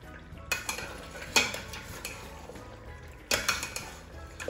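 A spoon stirs a thick, reduced spinach sauce cooked with smoked fish and beef in a pot, giving a few sharp metallic scrapes and clinks against the pan over a faint sizzle.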